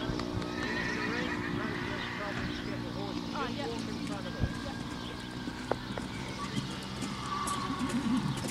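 Horses at a show jumping event, with several neighs and whinnies and hoof clip-clops over a busy outdoor arena background, while a voice talks over the scene.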